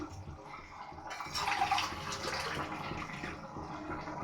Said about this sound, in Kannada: ನಾನು 3 ಗ್ಲಾಸ್ ನೀರು ಹಾಕ್ತಾ ಇದ್ದೀನಿ